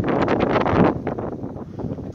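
Steady wind gusting against the microphone ahead of an approaching storm, a close, rough rushing roar that swells for the first second and then eases slightly, with no other sound standing out.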